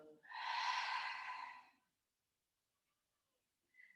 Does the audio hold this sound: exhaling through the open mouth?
yes